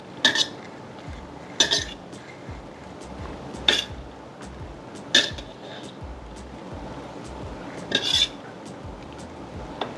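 A spoon stirring ingredients together in a dish, with a faint scraping swirl under sharp metallic clinks against the bowl, spaced irregularly every second or two, close by, with no talking.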